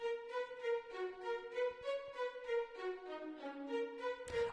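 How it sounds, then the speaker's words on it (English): Short string patches from Project Sam Free Orchestra playing a lead melody line in a beat, soft and smooth, with a sharp percussive hit at the end. "The last thing I really added to the melody is these strings right here."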